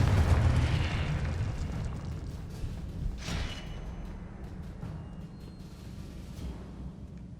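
A Confringo spell explosion in the video game Hogwarts Legacy: a loud, deep rumbling blast with a sharp secondary burst partway through, then a steady, grumbling low tail, with no talking.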